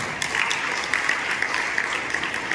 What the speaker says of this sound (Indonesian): Tepuk tangan untuk guru-guru kita semua.